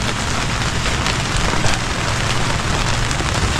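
Steady heavy rain pattering on a surface, a continuous dense hiss with no breaks.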